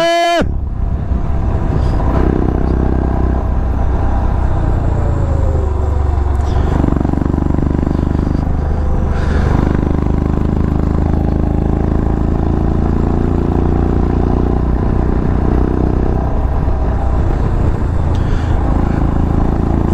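Loud, continuous engine drone and wind rush from a motorcycle riding on a road in the Spiti Valley, steady throughout with a few rising and falling engine swells.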